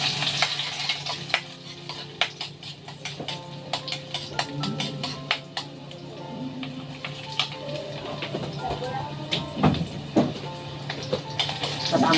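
Pancit noodles cooking in a hot frying pan, giving a steady sizzle with sharp scraping and clinking of a utensil stirring against the pan, close and moderately loud with no talking.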